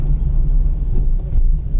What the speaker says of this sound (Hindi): तो अभी ड्राइव कर रहा हूँ दोस्तों मॉल रोड में